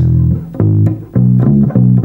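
Bass guitar plays the chorus of a song alone, a walking line of clear, sustained low notes in steady rhythm, loud and close.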